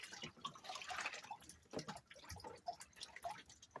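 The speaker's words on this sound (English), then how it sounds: "we're going to wash our previous container out" A container used for gold scrap is rinsed out, with soft trickling and dripping water splashing faintly and unevenly at close range, no talking.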